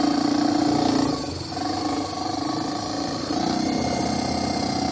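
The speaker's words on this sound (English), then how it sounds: "The motor's a little quieter now." Close, steady hum of a Gerard Morin pump motor running on 12 volts, dipping briefly in level partway through before resuming its even drone.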